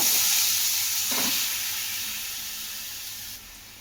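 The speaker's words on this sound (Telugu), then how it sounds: "ఆయిల్ కొంచెం వేడెక్కిన తర్వాత బీరకాయ ముక్కలు వేసేయండి." Ridge gourd pieces fry in hot oil in a kadai, giving a loud, steady hissing sizzle that eases slightly over a few seconds.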